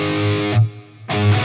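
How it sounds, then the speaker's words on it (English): Electric guitar through a distortion pedal set for overdrive, two loud sustained chords with a brief gap between them, played alone. "you can use this also as an overdrive"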